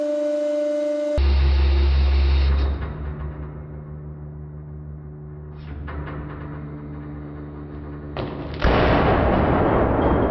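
A heavy hydraulic press hum, then a sharp loud burst as a duct-taped object gives way under about 75 tons, followed by lingering rumble and a second loud crack.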